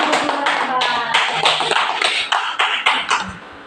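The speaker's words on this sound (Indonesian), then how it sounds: "Tepuk tangan buat kita semua." A room of teachers clapping together after a school presentation, sharp overlapping claps in an irregular rhythm, close and loud, tapering off toward the end.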